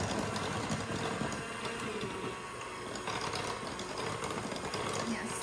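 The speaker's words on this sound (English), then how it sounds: "We are taking turns mixing with a hand mixer." Electric hand mixer beating scone dough in a bowl, a continuous buzzing motor whir that stays fairly steady throughout and sits close.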